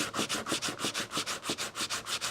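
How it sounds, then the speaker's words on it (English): Sandpaper rubbed by hand over a hardwood sculpture, a steady run of about a dozen rhythmic back-and-forth strokes, close and clear with no talking. "And then I'll start with the sandpaper."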